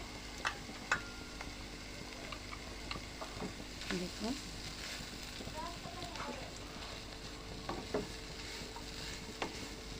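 Chopped onions and green chillies sizzle quietly in a hot pan, with occasional stirring clicks and a voice talking over the steady frying.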